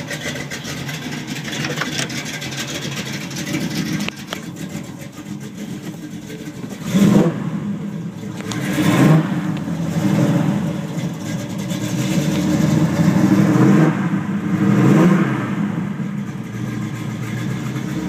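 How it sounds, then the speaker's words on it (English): A 1969 Pontiac Firebird engine idles loudly, then revs up several times in rising and falling surges, close by and steady throughout. "I'll get in and rev it up some."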